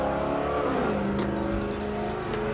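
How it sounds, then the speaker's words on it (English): A loud car drives by outside, its engine note sliding downward as it passes, heard indoors as a steady rumble over a brief span without any speech. "Sorry about the car, obnoxious car going by."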